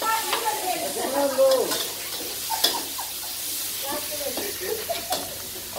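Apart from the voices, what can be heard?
egg being scrambled and fried for pad Thai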